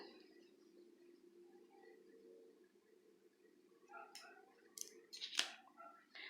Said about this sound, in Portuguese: Agora eu vou cortar aqui essa pontinha.